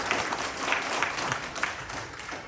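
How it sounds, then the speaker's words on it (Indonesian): A crowd at a religious gathering at an Islamic boarding school claps for an Al-Banjari group, a sustained roomful of hand claps with a few louder bursts and no speech over it. "Tepuk tangan juga untuk Al-Banjari."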